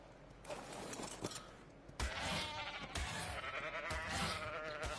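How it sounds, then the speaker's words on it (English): A sheep in the video game Ark Survival Evolved bleats several times in a row over steady game background noise and mechanical clatter, at moderate loudness. "I found a sheep."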